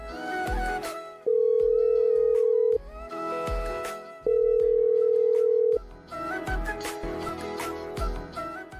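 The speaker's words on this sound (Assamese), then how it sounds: "বাহিৰৰ পৰা আহি মাকলৈ ফোনটো লগালে" A phone call placed to a mother plays a steady ringback tone in two long, flat bursts of about one and a half seconds each. Background music fills the gaps between and around them.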